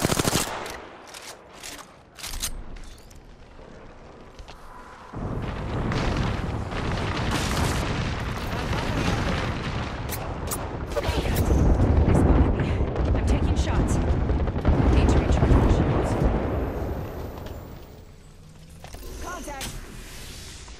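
Sustained heavy gunfire with booming impacts, loud bursts and rolling fusillades that swell and fade, with radio-style voices calling out between shots.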